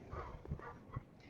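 A neighbour's dog next door lets out a couple of quick, faint yips and barks, short and soft against a quiet backdrop.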